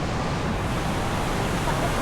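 A fast, swollen river current in flood rushes steadily, a loud continuous broadband roar of churning water with no break, close by and filling the whole stretch.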